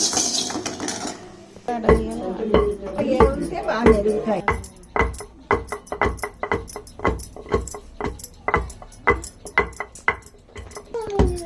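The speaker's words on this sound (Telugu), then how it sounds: "ఫస్ట్ ధనియాలు వేసి మనం బాగా దంచుకోవాలి" Coriander seeds pounded for a curry masala, a steady series of sharp, loud thuds at a regular beat with metallic clinks between strikes, close up and without speech.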